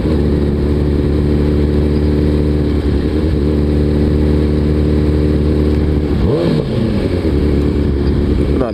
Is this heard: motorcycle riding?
yes